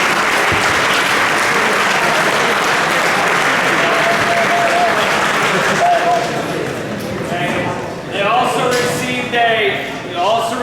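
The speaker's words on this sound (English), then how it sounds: "So let's give these guys a round of applause." A football banquet audience bursts into sustained applause, dense clapping filling the room steadily before thinning out, with a few voices and clatters emerging near the end.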